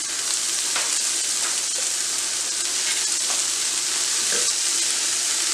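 Whole green beans sizzle steadily in a hot skillet with seasoned onions, a close, even hiss of frying with faint stirring and scraping noises and no talk.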